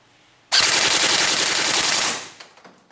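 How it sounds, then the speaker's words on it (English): A Tokyo Marui M4 airsoft rifle fires one rapid full-auto burst of about a second and a half. The dense mechanical chatter is loud and close, heard alone, and trails off into a brief rattle. "And then we test the full auto mode to test the rate of fire."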